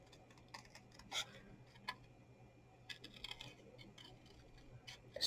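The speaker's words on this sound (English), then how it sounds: "I'm just simply going to cut around that with my scissors, leaving a wee white edge" Scissors cut around a stamped paper image for a Christmas gift bag, making faint, irregular little snips and clicks spread through a quiet room.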